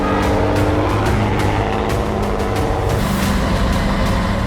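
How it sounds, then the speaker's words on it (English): A red Scania 360 logging truck's engine roars at full strain climbing a steep slope, with a harsh, high-pitched turbo whine cutting through, loud and continuous with brief rattling bursts. "Did you hear the turbo screeching? The engine is overpowered, fighting this scary slope."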